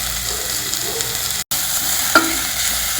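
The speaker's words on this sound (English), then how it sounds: "Fry the masala" Masala with tomato and onion fries in a pan, giving a steady close hiss of sizzling oil with a faint stir partway through and a brief cut in the sound.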